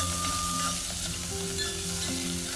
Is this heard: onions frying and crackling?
yes